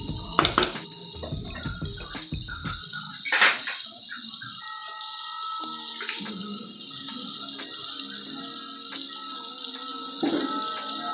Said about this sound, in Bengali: আমি এখানে অল্প জল দিব